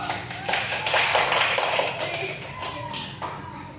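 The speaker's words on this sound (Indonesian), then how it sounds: "sekarang tepuk tangan dulu untuk kelompok 2" Scattered clapping from a classroom of students applauding the winning group 2, a loose, uneven patter of hand claps with some shuffling, fairly close and steady across the whole stretch.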